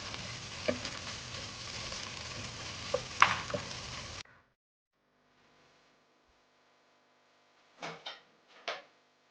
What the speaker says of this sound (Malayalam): ചുവന്നുള്ളി അതിലേക്ക് വെളുത്തുള്ളിയും ഇഞ്ചിയും ചതച്ച് വെച്ചത് എടുത്ത് എടുത്തിട്ട് ഇളക്കുക